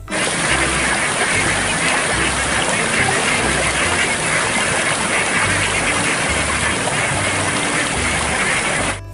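A toy duck in water, with dense, loud splashing and sloshing filling the whole stretch and repeated low thumps underneath, steady throughout with no clear talk.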